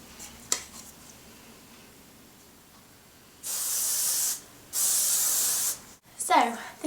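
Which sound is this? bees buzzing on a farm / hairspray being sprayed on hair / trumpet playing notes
hairspray being sprayed on hair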